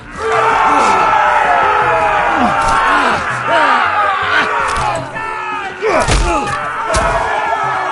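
An arena crowd in the Game of Thrones Telltale game roars and shouts loudly throughout, with thuds and sharp impacts punctuating the din.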